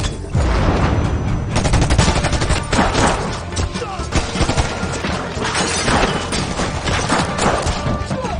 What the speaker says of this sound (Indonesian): aksi tembak-menembak di antara kedua belah pihak pun tak terhindarkan lagi